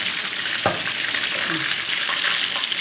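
Oil sizzles and crackles steadily as sea bass fries in a pan, with a few soft clinks of a utensil.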